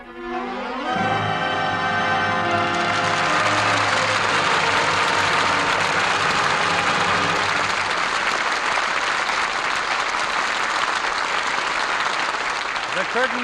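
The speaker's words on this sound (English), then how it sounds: "that applause is our thanks to a stellar cast for their really fine performances" Studio audience applause following the Lux Radio Theatre broadcast of All My Sons, a dense sustained clapping that swells in after a fading engine-like hum and continues steadily at full strength to the end.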